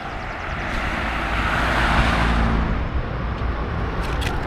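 Traffic on Red Hill Road in Kitisuru, Nairobi, several vehicles moving the same way as a steady broadband roadway rumble that swells toward the middle and eases off, with no voices.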